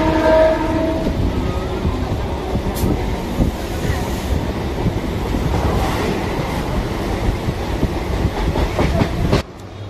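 A moving passenger train rumbles and rattles from inside, with steady rhythmic clatter of wheels on track, loud and continuous, ending in a brief drop near the close.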